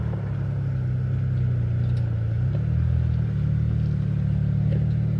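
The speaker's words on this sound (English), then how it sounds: "Keep your tires in line and stay on the throttle nice and easy, and it'll climb right up" An off-road vehicle's engine labours steadily up a rocky trail, a loud continuous low drone that shifts pitch slightly midway as the throttle is eased on, with no voices over it.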